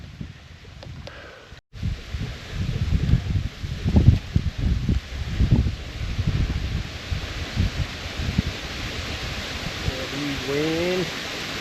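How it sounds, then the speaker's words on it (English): Wind gusting through the woods, a broad steady rush that swells and fades in waves at moderate loudness, with brief rustling and faint bird-like chirps near the end. "Wind."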